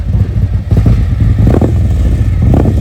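A loud two-tone motorcycle engine is revved up close in Savannah, Georgia, its deep rumbling exhaust pulsing through several throttle blips.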